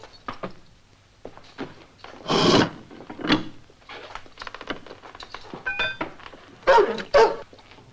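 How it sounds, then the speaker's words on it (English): A restless dog in a 1958 vampire horror film barks a few times, with sharp, loud bursts spaced apart amid softer clatter and scattered background movement. "Dog's a bit restless."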